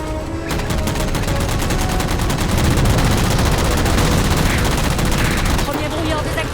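Sustained, loud automatic gunfire from a Halo action film as soldiers shoot at jammers: dense rapid bursts that fill the whole clip with little pause.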